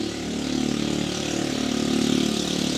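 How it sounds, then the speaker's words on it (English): A motorcycle with a faulty, leaky muffler passes on a street outside an apartment, a steady rough engine drone that holds loud and swells slightly as it goes by, with no voices. "let's wait till the motorcycle gets past me"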